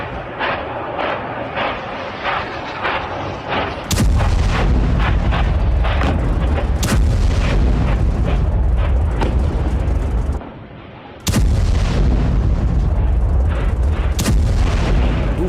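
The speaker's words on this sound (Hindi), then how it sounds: "लेबनान में बेरूत में इजराइल का मिसाइल से ताबड़तोड़ अटैक, हमले में घर को बनाया गया टारगेट" An Israeli missile strike hits a house in Beirut, Lebanon: loud, rumbling blasts and heavy booms roll on continuously, with sudden sharp impacts and a brief drop before the roar resumes.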